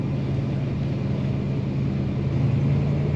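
Steady low road rumble and engine hum from inside a moving 1970 Pontiac Tempest, constant and unbroken throughout.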